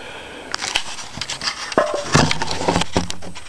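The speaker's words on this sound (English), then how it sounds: "Just gonna do a little shoot, show you guys how this thing fires." A WE Hi-Capa 1911 Government V2 airsoft pistol fires a run of sharp, close clicks and snaps at irregular intervals, aimed at a target about 18 feet away, with no talking.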